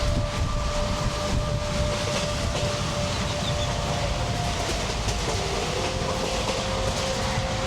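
Steady rumble and rattle of a passenger train running on rails in Tamil Nadu, between Tiruchendur and Srirangam, heard from inside a carriage, with continuous noise and a faint whistle-like tone throughout and no talking.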